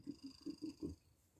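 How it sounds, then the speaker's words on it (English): A house cat purrs close by in a quiet room, about five soft rhythmic pulses over a second and a half, then fading into near silence. "He's the best cat ever, though,"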